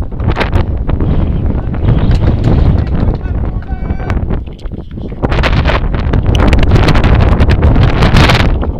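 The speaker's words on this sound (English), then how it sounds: "I can't hear you over the wind." Strong wind buffets the microphone at an outdoor paintball game, a loud continuous rushing roar that drops briefly midway and then returns, with shouted voices faintly in the mix.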